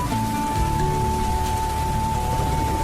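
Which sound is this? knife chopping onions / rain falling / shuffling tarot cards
rain falling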